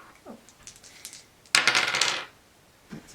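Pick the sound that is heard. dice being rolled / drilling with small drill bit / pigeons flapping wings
dice being rolled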